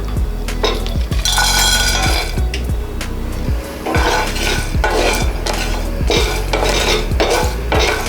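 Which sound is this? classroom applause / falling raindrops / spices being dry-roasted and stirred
spices being dry-roasted and stirred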